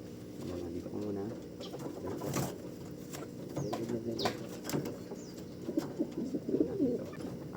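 Pigeons cooing while being moved between spots, repeated soft low coos close by, with a person talking over them and occasional rustling and wing flaps.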